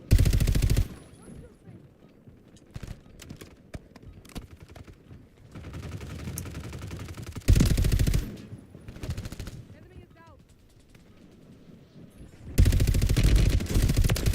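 A no-recoil gun fires in Warzone in three long, loud automatic bursts, close and sustained, separated by quieter stretches of game ambience and lighter rattles.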